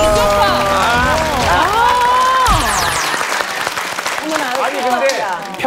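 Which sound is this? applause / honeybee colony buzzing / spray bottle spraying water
applause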